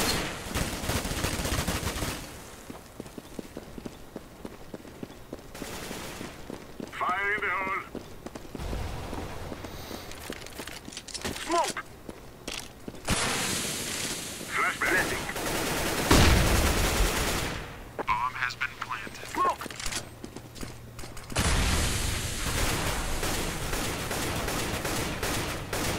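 Repeated gunshots and bursts of automatic fire in the video game Overwatch, sometimes rapid and sometimes spaced apart, mixed with other game effects across a long, busy stretch of play.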